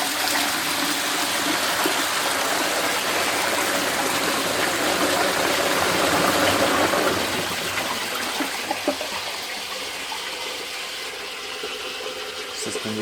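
A restored 1935 H. J. Gill and Co Cardigan toilet cistern flushes with a loud, steady rush of water that gradually eases and trickles as the refill shuts off.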